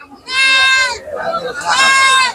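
Goats at a village goat market bleat loudly and close by, two long wavering cries with a shorter call between them.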